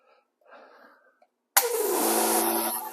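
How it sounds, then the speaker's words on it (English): XtremepowerUS air compressor plugged into a 110 outlet with its valve open, switching on abruptly after a few quiet seconds and then running as a loud, steady motor hum with hissing air, heard up close. "So here's our cute little compressor."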